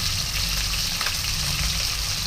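Bata fish frying in hot oil in a pan, turned to brown on both sides, gives a steady broadband sizzle and crackle that stays loud and even throughout, with no talk.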